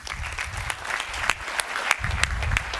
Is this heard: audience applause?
yes